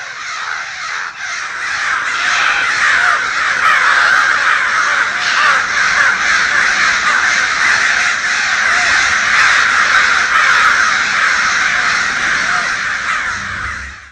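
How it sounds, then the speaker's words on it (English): A dense flock of crows caws continuously and loudly, many harsh calls overlapping into a steady raucous chorus that fades at the end. "there's just like this whole array of crows just swooping by, making all those sounds"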